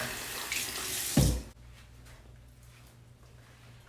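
Tap water runs briefly over gloved hands with a splashing rush, then is shut off abruptly, leaving a quiet room with faint background hum.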